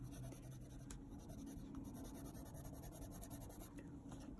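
Colored pencil strokes scratch softly across paper on an adult coloring page, a quiet, continuous scribbling texture with no talk.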